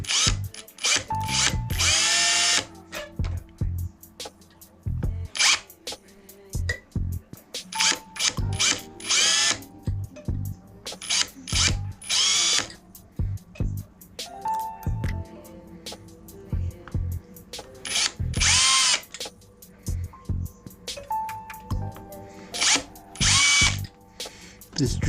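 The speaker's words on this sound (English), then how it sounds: "I'm going to drill one hole and then I'll drill the other hole after that" A power drill whines in repeated bursts, revving up and stopping as it bores into metal angle iron, with ratcheting clicks and pauses between runs.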